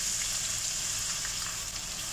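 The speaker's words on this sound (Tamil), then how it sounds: "நம்ம எடுத்து வச்சிருக்கிற வெங்காயத்தில் பாதியை எடுத்து நம்ம கொஞ்சம் பொரிச்சு வச்சுக்கலாம்" Onions frying in hot oil for a rice vermicelli stir fry, a steady close sizzle with a constant bright hiss and faint crackles, no talk.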